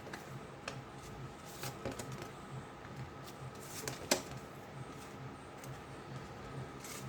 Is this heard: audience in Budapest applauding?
no